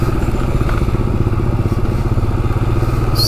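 Loaded motorcycle descending a mountain road in first or second gear, its engine thrumming in a steady close pulse with rattling clatter from the bike and luggage, no speech.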